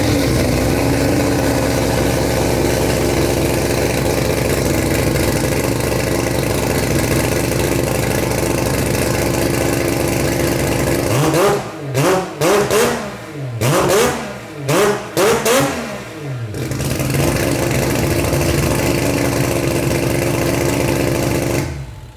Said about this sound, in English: I know you've never heard the 8 fire up, so I'm going to do a couple of little things to prep it and start it up